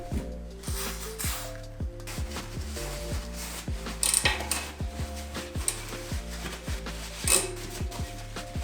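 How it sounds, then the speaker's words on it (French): An old cassette removed from a Triban RC500 gravel bike is cleaned, giving a steady, close run of rapid metallic ratcheting clicks and rubbing that continues without pause. "On enlève la vieille cassette et on en profite pour nettoyer un coup"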